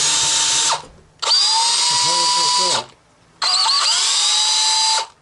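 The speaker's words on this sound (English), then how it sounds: "This one's got a bent drill bit," A power drill fitted with a bent bit bores a hole in a Jeep JK transmission pan, running in three loud, steady high-pitched whines, each a second or two long and separated by brief pauses.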